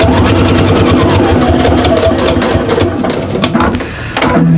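A sewing machine runs steadily, stitching pieces of a small bag together, with a fast rhythmic whirring and tapping that carries through the whole stretch and slows briefly near the end.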